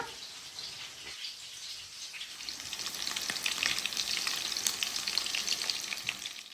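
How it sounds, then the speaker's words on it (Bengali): Chicken pieces frying in hot oil, a dense crackling sizzle that grows louder and busier partway through, heard up close with no voices. "চিকেনগুলো ফ্রাই করা হয়ে গেছে"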